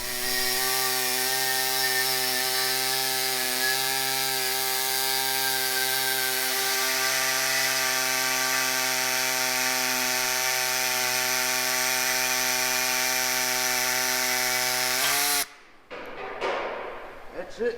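A saw blade lubricated with soap cuts through metal, producing a steady, loud whining tone that holds for about fifteen seconds, then stops abruptly and gives way to quieter scattered clatter.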